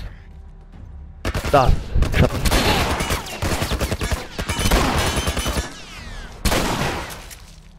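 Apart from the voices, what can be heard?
gunshots in video game The Last of Us Remastered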